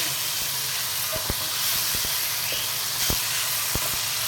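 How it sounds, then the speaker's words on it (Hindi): Beef liver (kaleji) frying with masala in a pan, giving a steady broad sizzling hiss with scattered sharp crackles and pops throughout, close and continuous with no talking. "कलेजी को भी आपने मसाले के साथ भूनना है"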